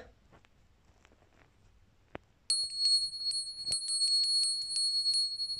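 Halfway through, after a quiet stretch broken by a few faint clicks and a sharp tap, a small bell named Rita bursts into loud, rapid, evenly spaced ringing and keeps going to the end.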